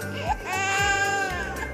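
A baby cries in the Brain Test puzzle game, a loud wailing sob rising and holding for about a second, over a looping game tune with a bass pulse.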